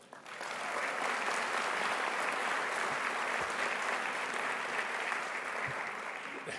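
Sustained audience applause at a college television awards ceremony, a dense steady wash of many hands clapping together, loud and continuous for several seconds before tapering slightly at the end.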